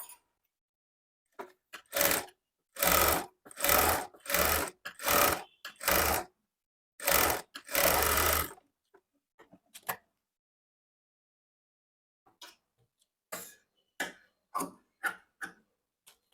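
Sewing machine running a quarter-inch topstitch on a lined blouse: a series of loud, close bursts of rapid stitching with brief gaps, then a quiet stretch followed by a few scattered short clicks and whirs.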